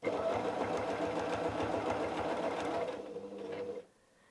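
A sewing machine quilts a curved line across patchwork fabric, its needle running in a steady, fast, loud rhythm for nearly four seconds before slowing and stopping.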